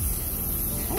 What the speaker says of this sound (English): And I'm just adding some butane to my torch.